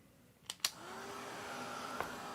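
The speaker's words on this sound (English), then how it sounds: "I'm going to get the blow dryer, and let me dry the painting" A blow dryer runs steadily over a watercolor painting, a close, even whooshing roar that builds after a couple of clicks and small knocks as it starts up.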